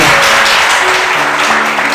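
Audience at a prayer group's anniversary gathering in a chapel clapping loudly and continuously in a short, dense burst, with faint tones underneath.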